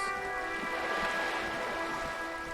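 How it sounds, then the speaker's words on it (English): Steady rain in the video game Disco Elysium, a constant close hiss of falling drops with a faint low rumble beneath, loud and unbroken with no voices. "Yep, it's definitely raining."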